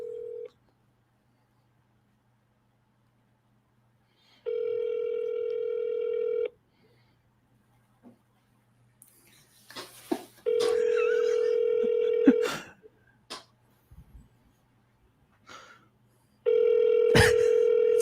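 A phone ringback tone sounds in three long, steady buzzing bursts separated by pauses, with faint handling noises and murmurs in between.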